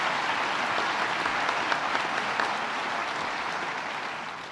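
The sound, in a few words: applause for the mayor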